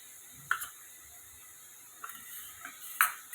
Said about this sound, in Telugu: మిక్స్ చేసుకున్నామండి ఇలా.